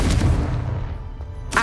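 A Confringo blasting spell from the Hogwarts Legacy video game explodes with a loud, rumbling boom that decays slowly, followed by a sharp second impact at the end.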